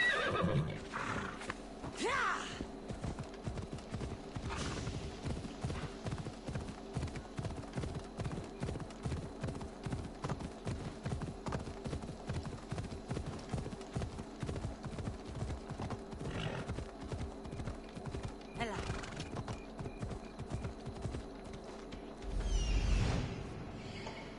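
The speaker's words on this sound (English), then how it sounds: "Let's call my horse." A horse in Assassin's Creed Odyssey gallops with steady, rapid clip-clop hoofbeats that run throughout, with a whinny near the start and a louder snort near the end, over a continuous game ambience.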